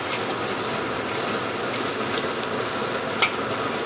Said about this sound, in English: You put the lapchong at the beginning of the Char Kway Teow stir fry.